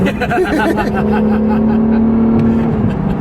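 A blue 2017 Acura NSX supercar pulls away hard, its engine note rising in a loud, steady drone that holds for about three seconds before easing off, heard close from inside the car with road and wind noise underneath.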